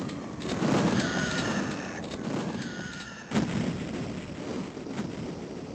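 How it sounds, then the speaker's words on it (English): Items blowing up in the Duke Nukem 3D expansion Duke Xtreme: loud, dense booming rumbles with a sharp blast near the middle over continuous game noise and music. "there's a random chance that any item in the game might just explode"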